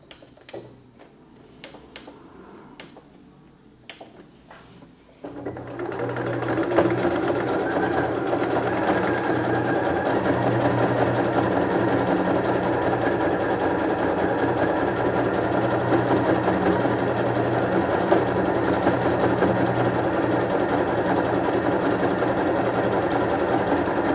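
A domestic sewing machine running a zigzag stitch along fabric: a few soft clicks first, then a steady, loud, continuous whirring hum from about five seconds to the end, with no voices.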